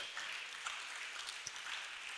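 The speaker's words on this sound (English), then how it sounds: "Sous vos applaudissements." An audience claps steadily at a formal ceremony launching the Democratic Republic of Congo–Nigeria Friendship Foundation in Nigeria, a soft, continuous wash of applause heard from some distance with no talking.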